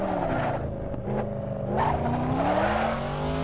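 A Corvette Stingray's engine drones loud and close in Assetto Corsa, its harmonics dipping and then climbing as the car pulls hard through short first-gear revs.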